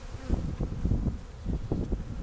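Honeybees buzz in a low, fluttering drone close to the microphone at an open hive, with some wind rumble mixed in.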